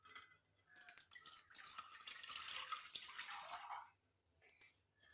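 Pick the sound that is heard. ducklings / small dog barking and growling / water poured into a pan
water poured into a pan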